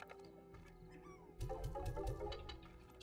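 Chickens cluck in the video game Slime Rancher, with a few short, bright, repeated clucks bunched together near the middle over soft game background sound and no talking.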